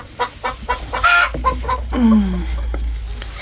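A rooster clucks several times close by, then gives a drawn-out, falling call.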